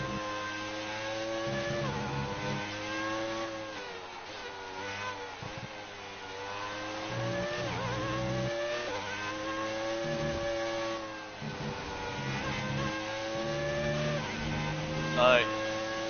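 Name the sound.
F1 car engine revving, F1 2019 video game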